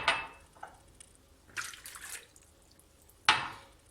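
Lukewarm water is poured into a bowl for pizza dough, giving a few short splashing pours with quiet gaps between them, close and fairly soft.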